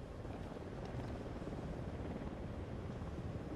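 A video game helicopter in Ghost Recon Wildlands drones in a steady, muffled rumble, moderately distant and unbroken, with a faint windy hiss.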